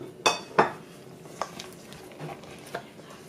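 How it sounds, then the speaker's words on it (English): Milk chocolate folded into brownie batter in a bowl: a few soft, scattered clinks and scrapes of a utensil against the dish, two sharper knocks early on, quiet and close. "finally I'm going to go ahead and add in all of the milk chocolate and then just fold it into the batter"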